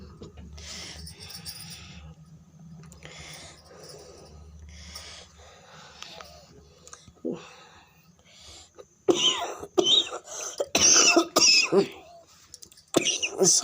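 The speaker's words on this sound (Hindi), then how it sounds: "बोलते बोलते मुझे थोड़ी सी खांसी आ जाती है।" A person talks softly, then breaks into a series of harsh coughs and throat clearing, loud and close.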